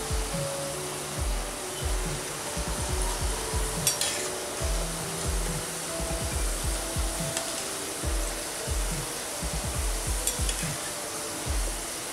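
Sabudana fingers fry in a pan of hot oil, a continuous loud sizzle with rhythmic scraping and stirring strokes throughout and a few sharper clinks.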